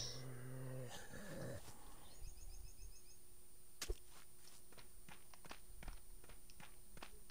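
A dog growls and snarls in the survival video game Apocalypse Rising. The sound is up close and lasts about two seconds at the start, followed by a sharp impact, scattered footsteps and clicks over a steady game hum.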